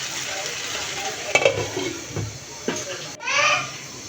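Chicken curry being stirred in a pan, with a spoon scraping and clinking against the metal amid a low sizzle, a few distinct knocks, and speech nearby.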